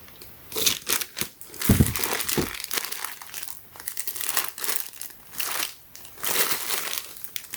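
A plastic bag wrapping shoes crinkles and crackles in repeated bursts of handling, close to the microphone and irregular in rhythm, with no talking.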